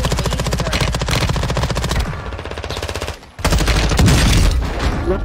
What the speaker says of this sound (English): There's people shooting over here.